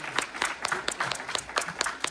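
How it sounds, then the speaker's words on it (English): Audience at a corporate evening meeting in Irvine applauds the team leaders, a small, fairly faint group clapping with distinct, slightly uneven individual claps close by. "let's give a big round of applause for the team leaders"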